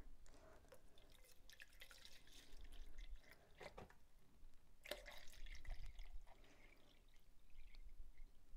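Distilled water is poured into a measuring cup on a kitchen scale while mixing electrolyte for NiFe batteries. It makes a faint, steady trickle with scattered drips and splashes, heard alone.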